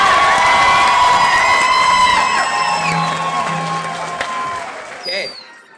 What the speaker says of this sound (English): let's just give class of 2018 a big hand of applause